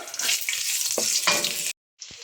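Garlic and ginger sizzle and crackle in hot oil in a pan for a tinola of mussels, with stirring scrapes and a short pause before the frying sound resumes.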